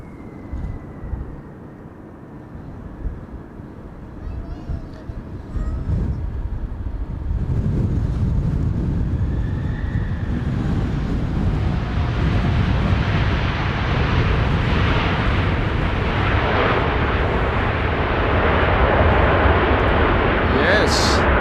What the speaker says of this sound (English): I'm expecting a loud landing with reversers being applied.